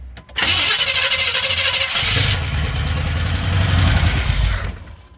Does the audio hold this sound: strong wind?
no